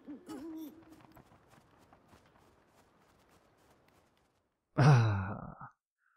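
Owl hoots in the video game Never Alone, set in the snowy tundra: a soft call near the start fades into quiet ambience, then a loud, close hoot sounds alone after a short silence.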